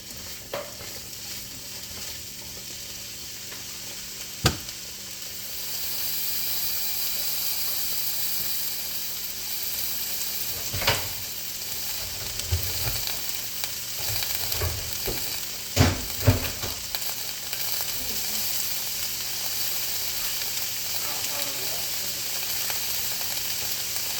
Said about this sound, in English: I got one whole onion that I'm just sauteing.